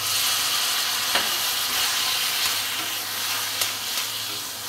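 Eggplant stirred and roasting with spices, including Kashmiri red chili powder, in a pan for baingan bharta: a steady close sizzle and hiss with a few soft scraping stirs, no talk.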